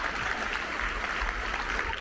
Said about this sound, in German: Die Show ist zu Ende und das Publikum klatscht und jubelt.